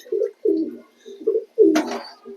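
Pet pigeons, yellow-faced and white fantail birds, coo close by in a series of soft, throaty rolling calls, about five in quick succession with short pauses between them.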